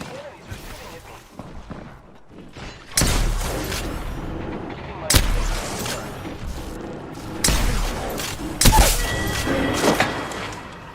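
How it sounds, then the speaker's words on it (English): Enemy gunfire in a shooter video game: scattered heavy shots and thumping impacts at irregular intervals over a busy game soundscape, with a voice speaking at times. "Enemies are shooting at me."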